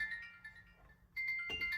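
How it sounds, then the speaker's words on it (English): A phone rings faintly in the background, its electronic ringtone a few steady tonal notes over a low room hum. "Phone is ringing."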